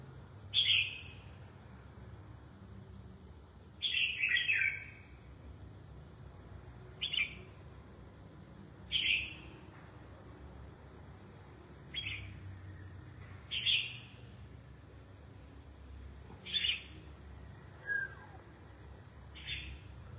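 Red-whiskered bulbuls call in the morning with short, bright chirps and whistled phrases repeated every few seconds, moderately close over a quiet background hum.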